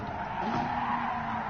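A race car skids in a crash during a Gran Turismo Sport online race at Saint Croix, a sustained, steady tyre-scrubbing screech with an engine drone beneath it, loud and close throughout.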